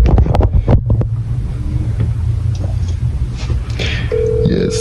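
An unanswered outgoing phone call rings through a speaker, with a long steady tone toward the end, heard under wind noise and some low rumble outdoors.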